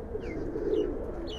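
A Palla-line Giribaz pigeon coos softly and steadily, a low murmuring call at close range with faint chirps overhead in a loft.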